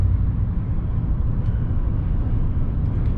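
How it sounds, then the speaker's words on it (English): A V8 truck engine gives a deep, steady exhaust rumble, loud and continuous, heavy in the low end with no talk over it. "So it frees up that V8 rumble and makes it sound like a big truck"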